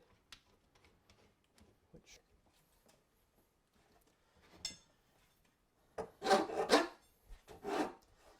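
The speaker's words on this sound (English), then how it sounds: "and then using the file in our hand." Quiet scattered taps and scrapes give way to a few loud, rough rasping strokes of a hand file across the end grain of a wooden sword near the end.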